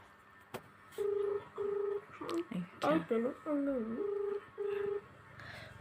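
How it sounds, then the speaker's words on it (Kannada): A phone being dialed, a sequence of clear keypad tones with short even beeps at the start and end and a jumble of tones in the middle, fairly close, with faint voices. "ಕಾಲ್ ಮಾಡ್ತಾ ಇದ್ದಾನೆ"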